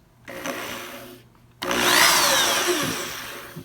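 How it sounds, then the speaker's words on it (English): Power driver sinking 2-inch wood screws into a wooden rack platform, a short whir followed after a pause by a longer, louder grinding drive as the screw bites into the wood, with no talk. "Using a couple 2-inch wood screws, we just"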